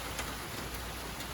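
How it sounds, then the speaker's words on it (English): Light rain falls steadily outdoors near a house and porch, a soft even hiss of drops at moderate distance with no voices, after heavier rain had been drumming on the roof. "it's still raining, but not hard"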